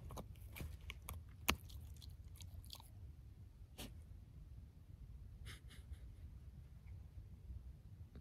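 Quiet, close chewing and crunching of a wooden stick by a Finnish Lapphund dog, with irregular bites and snaps, one sharper crack early on, against a calm outdoor background on a mountain trail in Shenandoah.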